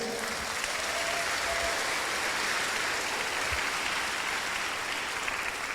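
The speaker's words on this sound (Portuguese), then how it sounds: "Vamos dar uma salva de palmas para eles?" A church congregation claps together in a steady, full round of applause that fills the space evenly from start to finish, with no voices standing out.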